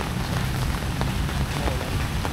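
Rain falls outdoors during a day out in Iloilo, a steady close patter of drops hitting surfaces that stays even and unbroken throughout.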